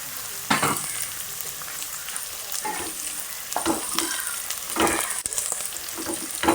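Green chillies frying with beef in a pan for a homestyle beef fry, a steady close sizzle broken by several sharp scraping stirs of a spatula, with no talking.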